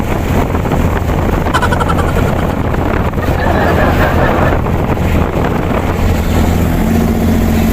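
Strong wind at sea roars across a fishing boat, buffeting the microphone in a loud, constant rush mixed with the engine's low drone and churning water.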